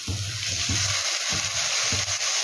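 Cauliflower pieces frying in hot oil in a wok give a steady hiss and crackle, with several soft low thumps and stirring bumps recurring under the sizzle; no talking.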